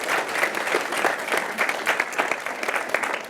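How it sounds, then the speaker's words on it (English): An audience at a business talk on people strategy breaks into sustained applause, dense steady clapping from many hands filling the room throughout without a pause. "So a round of applause, please."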